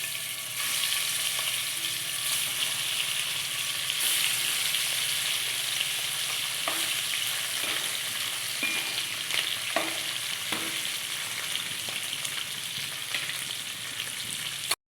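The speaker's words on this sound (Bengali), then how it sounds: "লবণ আর হলুদ মাখিয়ে মাছটা ভেজে নেব" Hilsa fish rubbed with salt and turmeric frying in hot oil, a loud steady crackling sizzle throughout with a few scraping knocks partway through, no talking.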